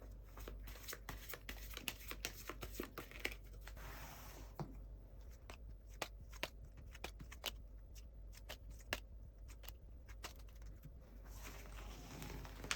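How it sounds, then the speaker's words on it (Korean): Tarot cards being shuffled and drawn, a quiet run of soft crisp flicks and taps, irregular and close, with no talk over them. "카드 몇 장 더 뽑아볼게요"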